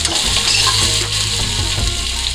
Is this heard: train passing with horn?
no